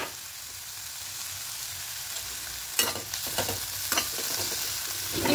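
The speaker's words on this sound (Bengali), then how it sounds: "ঢাকা দিয়ে এটাকে বেগুনটাকে ভাজবো" Eggplant slices and neem leaves fry in oil in a pan, with a steady soft sizzle broken by louder scraping and stirring clatters from a spatula partway through.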